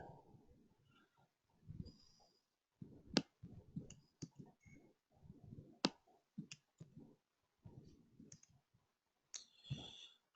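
Computer keyboard typing sounds up close, coming in bursts of quick clicks alongside sharper key taps, with someone talking quietly between them.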